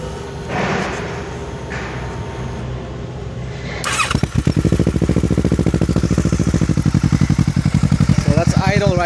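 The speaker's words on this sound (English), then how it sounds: "see how loud this exhaust can be" A 2013 Kawasaki Ninja 650 fitted with a Two Brothers full system exhaust is cranked and fires up, settling into a loud, rapid, pulsing idle close by after some quieter rustling and brief speech.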